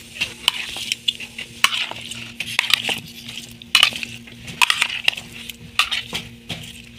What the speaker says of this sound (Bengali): এই ছোট ছোট চামচ দিয়ে ওরা লাড়তেছিল